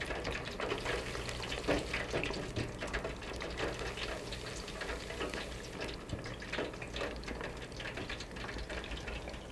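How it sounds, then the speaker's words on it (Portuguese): Pre-cooked frozen cassava sticks fry in hot oil, giving a steady, dense sizzle and crackle that stays loud and continuous throughout, with no talking. "Para ver o ponto de fritura, nós olhamos a cor do palito."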